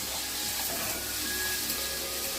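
Gongura fish curry is stirred in a hot pan, producing a steady close sizzle with soft scraping under it and no voices.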